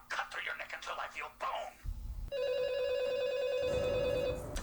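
A telephone rings in a scene from the 2011 horror film Scream 4, a steady electronic ring holding for a couple of seconds after some talk and shuffling, with background noise rising as the ringing continues.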